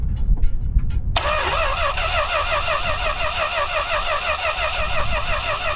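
A junkyard Chrysler car engine cranks briefly, then catches and starts, settling into a loud, steady, slightly uneven running idle close by with no talking.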